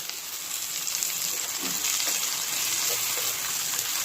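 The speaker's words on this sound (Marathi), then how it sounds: "कांदा लाल झाला, आता आपण टोमॅटो घालूया।" Tomatoes are added to onions frying in a pan, and a steady close sizzle hisses throughout at an even, moderate level.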